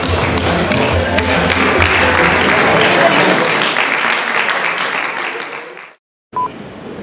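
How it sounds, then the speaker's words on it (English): A conference audience applauds at a mind-reading show, with dense clapping that stays loud for about six seconds and then stops abruptly. A brief burst of sound follows. "Round of applause for these guys."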